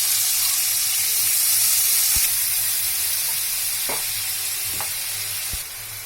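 Spice paste of turmeric and chili frying in hot oil for malai kofta curry, a steady loud sizzle with a few sharp stirring clinks, no voices.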